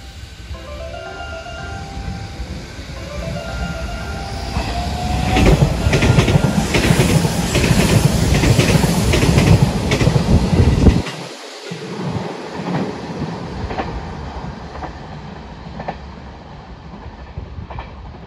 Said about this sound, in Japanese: まもなく上り線を電車が通過します。